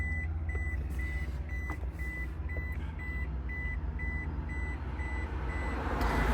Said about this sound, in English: you'll hear the key dinger going off, that annoying beep, beep, beep sound